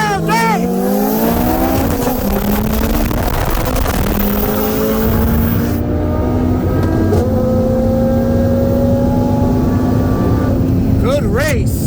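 Built 2018 Audi TT RS with IMS850 turbo kit on E85 and a built 2003 Subaru WRX bugeye with PT6466 turbo accelerate hard in a 40 mph roll race, engines rising in rising pitch, loud and sustained, with voices over them.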